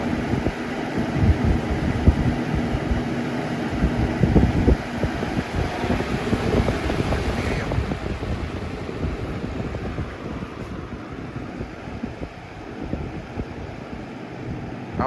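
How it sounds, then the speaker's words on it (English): A 1995 Windmere box fan, model 200 with a brace blade, running on medium gives a steady, soft airy whoosh that stays close and continuous, easing slightly toward the end. "I mostly use medium on this fan because it gives like a calm sound"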